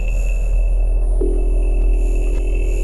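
A Nord Micro Modular synthesizer patch called City Atmosphere, a dense, constant low drone with a thin high whine, joined midway by a sustained tonal hum, loud and unbroken throughout.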